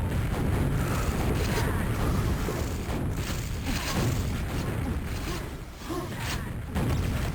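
Rocket explosions boom one after another in a Quakeworld 4on4 match, forming a dense, continuous roar of blasts and rumbling game noise that barely lets up for the whole stretch.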